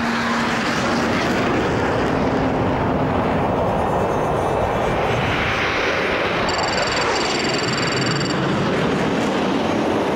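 Soviet jet fighter engine from the early jet era, a loud, continuous broadband roar that holds steady for the whole stretch, with faint high whining tones joining near the end and no voices.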